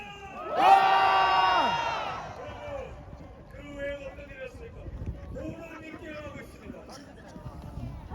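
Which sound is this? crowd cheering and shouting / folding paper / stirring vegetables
crowd cheering and shouting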